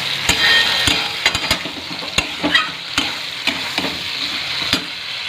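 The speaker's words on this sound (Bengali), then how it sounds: "তো দেখো আমি ছোলাটা দিয়ে আর কি খুব ভালো করে আর কি কষে নিচ্ছি।" Chickpeas stir-fried with spices in a pan crackle and sizzle up close, broken by repeated sharp scrapes and clacks of a spatula against the pan, no talking.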